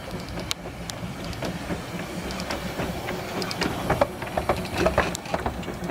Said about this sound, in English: We got the steam train coming along.